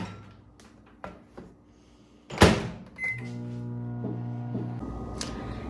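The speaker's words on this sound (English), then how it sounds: "So I'm going to go pop this in the microwave for the first 30 seconds." Microwave oven heating a nougat candy mixture: a few clicks and a door thump, then a beep, then a steady low hum that runs alone until a short beep near the end.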